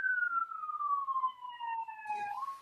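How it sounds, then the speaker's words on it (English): Emergency vehicle siren heard from outside, a single clear tone sliding slowly downward in a long wail, then a rising swoop near the end, with faint traffic rumble underneath. "So now I have sirens."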